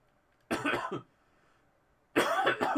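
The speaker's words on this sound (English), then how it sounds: "Excuse me, I'm coughing." Two separate bursts of coughing, close and fairly loud, with a quiet pause between them.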